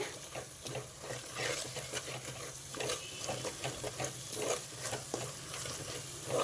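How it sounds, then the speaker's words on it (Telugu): Masala sizzling steadily in a pan for a fish curry, with stirring scrapes and crackles running through the whole stretch at a moderate, even level and no voices. "అదంతా వేసుకుంటున్నా ఈ మసాలా కూడా కొంచెం వేగాలండి"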